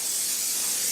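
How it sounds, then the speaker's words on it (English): Cooking spray hisses onto a pan in one steady, close burst filling the whole moment, with no other sound around it. "Okay, I got my spray."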